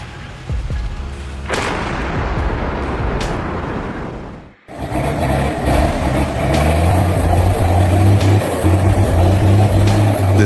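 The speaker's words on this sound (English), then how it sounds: "This logging truck is blazing up the hill like a Ford Mustang on a 45-degree incline" A logging truck climbs a steep hill, its engine roaring loudly with a deep, throbbing drone; a harsh burst of rumbling noise comes first, then a brief drop before the heavy engine roar takes over.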